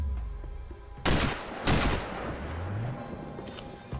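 Sniper rifle shots in the video game Sniper Ghost Warrior, two sharp loud cracks about half a second apart with a rumbling echo trailing off, over a low ambient game hum.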